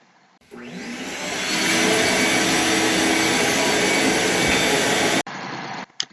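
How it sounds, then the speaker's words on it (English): A blower clears loose epoxy flakes off a plywood ramp inside an enclosed trailer, a loud steady broadband roar that builds for the first seconds, holds, then cuts off and briefly restarts. "right now we're blowing off whatever flakes didn't want to stick to the plywood"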